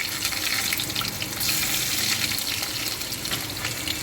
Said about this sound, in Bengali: আমি রসুনটা দিয়ে দিচ্ছি আর শুকনো লঙ্কা 4টে দিলাম।